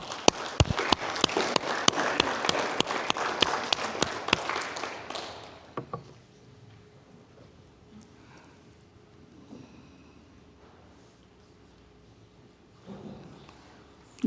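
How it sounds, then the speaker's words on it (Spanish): A church congregation gives a burst of lively clapping for about five seconds, which then stops abruptly into a quiet, hushed room with only faint scattered sounds. "Vamos a dar un aplauso, Señor."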